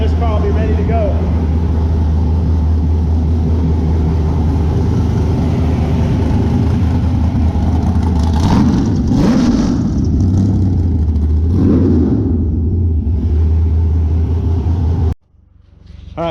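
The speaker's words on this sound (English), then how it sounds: "car wired and we just did the first fire up on it" Sand car engine running steadily at idle with a few revs swelling mid-way, loud and close, before cutting off near the end; the car has just been freshly wired for its first fire-up.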